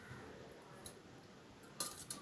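A spoon stirs a yogurt-and-water buttermilk drink in a glass, faint close clinks of metal against the glass, a few light taps in quick succession, with no talking.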